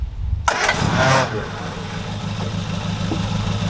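A Triumph Spitfire project car being restored cranks briefly, then its engine catches with a loud burst and settles into a steady, rumbling idle close by, while a person speaks over it.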